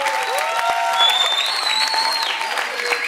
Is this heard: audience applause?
yes